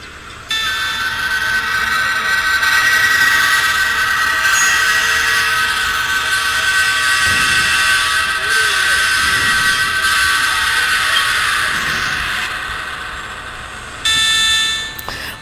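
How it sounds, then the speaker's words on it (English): A new train's horn in a train video game sounds as a loud, sustained, harmonic blast lasting over ten seconds, cutting off briefly and then starting again near the end. "this new train had a new horn effect."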